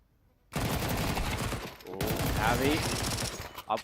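Rapid MP9 submachine-gun fire in a competitive esports match, dense continuous bursts that fill the clip after a brief quiet start, with a short gap midway and overlapping game sounds and commentary-like voices.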